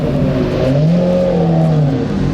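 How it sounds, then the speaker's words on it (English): A car arriving at a Cars and Coffee meet rumbles close by with a low, steady engine drone that rises slightly in pitch as it rolls in, no voices. "And here is Dave rolling in as well"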